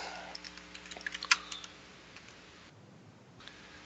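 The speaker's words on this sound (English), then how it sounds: "I just need to make a note of something in this typing." Quick, faint keystrokes clatter on a computer keyboard in an uneven burst, then a quiet hum carries on with no talk.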